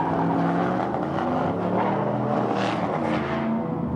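Turbocharged drag race cars, including a Toyota, roar at a drag strip with a loud, sustained engine drone and rising and falling pitch sweeps as they race past, mixed with crowd and track ambience.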